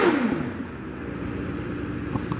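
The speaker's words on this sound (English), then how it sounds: "the cars are very loud outside the commentary box here" A race car engine whines past outside during hillclimb qualifying at Doune, its pitch sliding downward as it fades, leaving a steady low roar of distant traffic.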